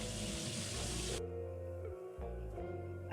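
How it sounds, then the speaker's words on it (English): Hot water is poured off a pot of freshly boiled edamame in a loud, rushing gush that lasts about a second and cuts off abruptly, leaving a faint background hum. "Remove hot water."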